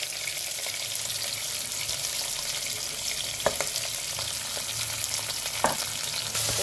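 Chopped onion and green chillies sizzle steadily in hot oil in a pan, a continuous close crackling hiss with a few sharper pops and light stirring scrapes near the end.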